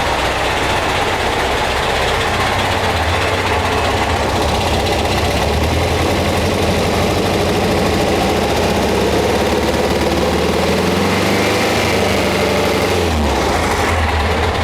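Porsche 912 engine revving during work on its charging system, a loud close air-cooled flat-four drone that swells and eases through several throttle blips over a steady idle.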